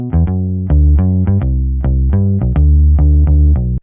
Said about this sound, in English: this bass guitar over here from Contact, which is from the Rickenbacker bass library